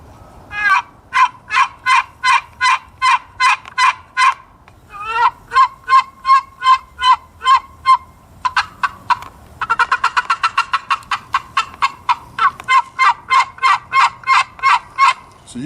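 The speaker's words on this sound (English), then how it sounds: "So we'll run this a little bit, do a couple yelps and maybe some cutting." A raspy juniper and red cedar turkey call worked by hand, giving loud, close runs of sharp, evenly spaced yelps that give way to a faster, denser burst of cutting notes.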